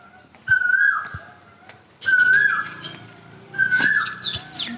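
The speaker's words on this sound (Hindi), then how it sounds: "आपको आवाज़ें आ रही होंगी। ये कोयल फिर से शुरू हो गई है।" An Asian koel calls three times in steady succession, each clear, fairly close whistled note swelling and then dropping away, spaced about a second and a half apart over a soft outdoor background with no speech.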